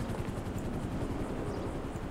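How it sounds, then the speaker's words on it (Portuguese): A helicopter in the video game GTA 5 drones steadily overhead, a faint, even rotor wash that stays constant throughout. "Cara, o helicóptero ali, mano."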